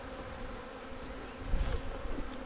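Honeybees from a nucleus colony with three full frames of brood buzz steadily as a dense, continuous hum, swelling slightly partway through while the hive is open on a cold day.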